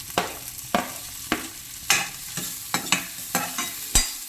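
Ginger pieces sizzling in hot oil in a pan for vegetable soup, with about eight sharp scraping stirs of a spatula at irregular intervals over a continuous close fry.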